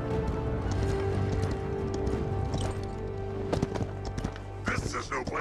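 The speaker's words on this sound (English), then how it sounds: "This is no place for horses." Horse hooves clip-clop and a horse neighs in the Paladins video game, set among busy game effects and spoken voice lines.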